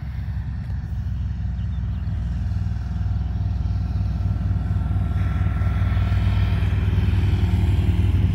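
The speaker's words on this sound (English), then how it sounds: "Little bikers going by." Motorcycles roll past on Custer State Park's Wildlife Loop on a fine day, a steady low engine rumble that builds slightly as the bikes draw near and continue by.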